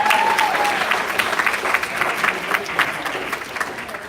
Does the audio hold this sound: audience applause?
yes